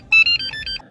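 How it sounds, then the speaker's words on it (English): A short electronic chime from an Easy Installer key-programming device for a 2014-2018 Jeep Cherokee: a bright, close melodic sequence of a few tones lasting under a second. "you should hear a chime sound coming from the Easy Installer"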